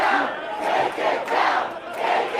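Crowd at a New York City mayoral election night headquarters cheering and chanting in waves, a dense roar of many voices rising and falling rhythmically, loud and close.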